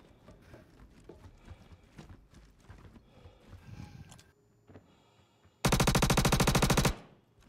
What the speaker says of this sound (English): Shooting. I can't tell where it's coming from.